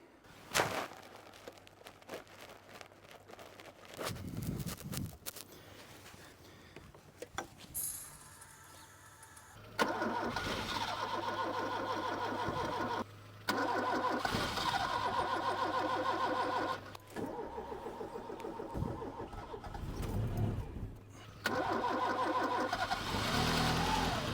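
A Lancia Delta Integrale, dormant for twelve years, cranks in several short, labored bursts. Its engine then catches and runs rough with brief stumbles and dropouts, loud and close.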